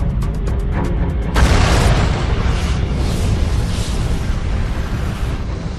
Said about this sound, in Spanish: Se trata de la explosión más grande conocida en el universo.